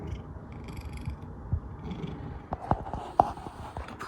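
A pet cat purring steadily and softly close by, a low continuous rumble with a few faint clicks and small knocks over it, and no talking.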